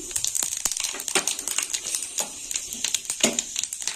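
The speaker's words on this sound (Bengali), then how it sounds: "দিয়ে দেবো 5 ফোড়ন।" Sharp crackling and popping spatters rapidly in irregular bursts as whole spices (panch phoron) hit hot mustard oil in a pan over high heat, close and fairly loud.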